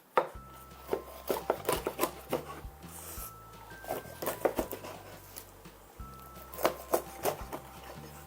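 A knife cutting a cleaned rockfish into about three chunks for spicy fish stew, close and fairly quiet, with clusters of sharp chops and thuds on a board separated by brief pauses.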